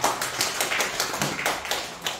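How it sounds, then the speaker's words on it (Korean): A church congregation claps hands together in a fast, dense burst of applause, steady and close, with no talking over it. "다시 박수 한번 쳐주시기 바랍니다."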